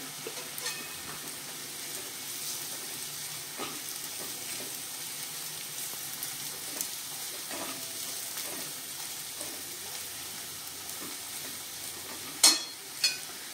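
Onion browning in a pan with ground garlic and coconut paste sizzles steadily, with soft stirring scrapes throughout and a couple of sharp clatters near the end.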